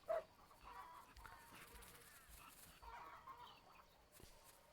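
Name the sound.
chickens clucking in a video game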